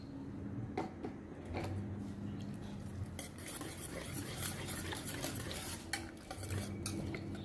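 A spoon stirs dried fruit into an eggless, milk-free Christmas cake batter in a bowl, giving soft repeated scrapes and occasional sharp clinks against the dish, close and steady with no talking.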